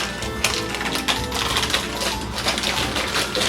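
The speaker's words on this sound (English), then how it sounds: "look how easy that came out because of the wax paper, and it just peels right off" A sheet of Halloween bark candy being peeled off wax paper, heard as a close, continuous crackling and crinkling rustle with small sharp snaps throughout.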